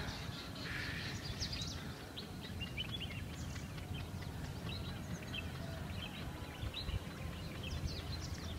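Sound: birds singing on a mountain

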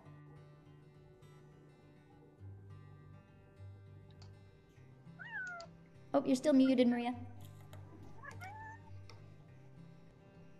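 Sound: cat meowing

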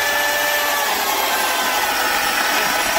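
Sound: Homelite 12 amp 16-inch electric chainsaw cutting wood

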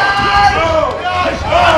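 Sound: audience cheering at a Super Smash Bros. Melee tournament

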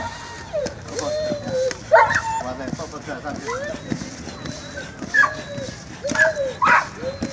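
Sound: rescue dog barking during water rescue training

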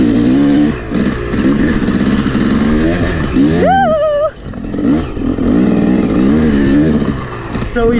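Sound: Yamaha YZ250 dirt bike engine revving

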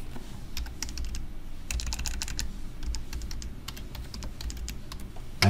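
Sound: typing a password on a computer keyboard

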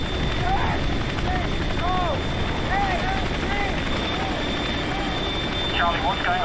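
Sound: helicopter arriving for airlift in video game Kilo Two Bravo

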